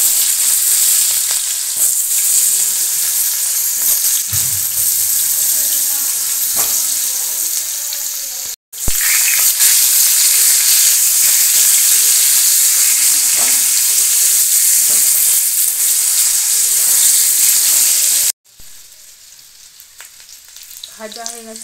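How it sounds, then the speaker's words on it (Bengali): Potatoes coated in spices and saffron fry in white oil in a wok, giving a loud, continuous sizzle with occasional stirring scrapes, broken by two short cuts and a quieter stretch near the end. "কড়াইয়ে তেলে আমি ভালো করে ভেজে নেব।"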